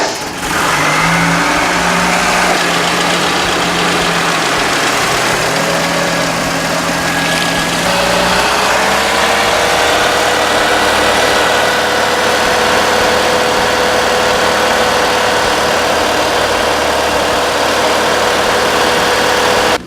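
Merkur XR4Ti engine cranks and catches, settling into a steady, loud idle after its injectors were swapped, with the revs dropping and smoothing out after a few seconds.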